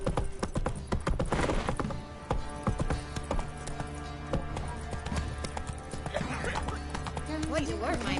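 Hooves of Roach, Geralt's horse in The Witcher 3, clop in a steady trotting rhythm throughout, mixed with game music and ambient noise.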